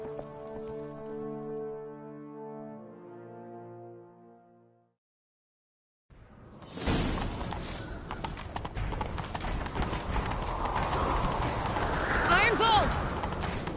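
Galloping horse hooves in The Witcher 3 video game, a rapid clip-clop rhythm that starts abruptly after a brief silence and continues steadily and loudly; a separate tonal passage precedes it.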